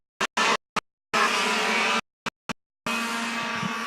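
Yamaha 100cc senior racing kart engines at a track in Invercargill, heard in loud, close bursts of revving as karts pass one after another, with silent gaps between the passes and a longer sustained pass at the end.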